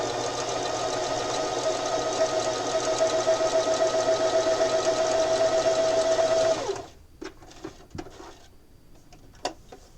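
A sewing machine runs at a steady fast whir, stitching quilt pieces along the long side of a block, for several seconds. It then stops abruptly, leaving a few faint clicks and handling taps.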